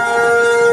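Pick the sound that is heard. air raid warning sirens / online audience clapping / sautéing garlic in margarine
air raid warning sirens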